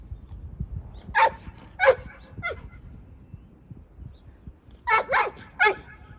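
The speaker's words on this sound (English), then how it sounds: "He is a very smart dog" A dog barks outdoors on a spring day in short sharp bursts, a pair of barks followed by a softer one, a pause, then three more, fairly close, over quiet background rustle.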